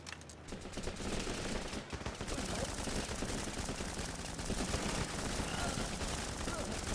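Dense, continuous gunfire from rifles and automatic weapons in the video game Running with Rifles, loud and unbroken, with rapid overlapping bursts and shots throughout.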